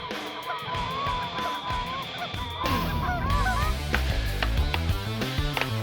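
Goose-like honking calls from a bird outdoors on a bitterly cold fall day, repeated nasal honks rising over a busy background of other fowl calls and clatter.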